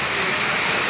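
Steady rain pours onto an outdoor tennis court at the National Press Club at night, a dense, loud, unbroken hiss of falling water.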